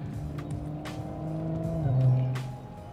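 A 2018 Audi RS5 driven hard holds a sustained engine drone, swelling as revs climb and then dropping, with faint tyre noise beneath.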